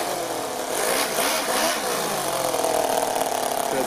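A small-engine vehicle accelerates in second gear while towing a 10 kg metal trailer, its engine note rising steadily and revving close by, loud and continuous with no talk over it.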